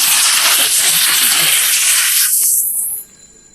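Large pabda fish hit a hot pan with a loud, close, sustained hiss of sizzling oil that cuts off abruptly after about three seconds.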